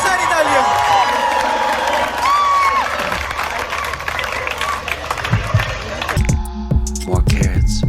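Audience at a comedy stage show cheers and shouts, then claps in a burst of applause at the end, with a noisy crowd hubbub and raised voices throughout.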